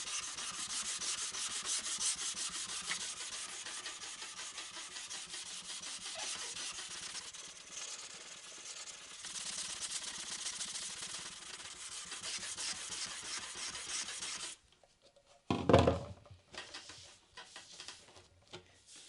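An epoxy surfboard is hand-sanded with 400 grit sandpaper, a steady raspy rubbing that runs continuously at close range, pauses, then returns in a few short strokes near the end.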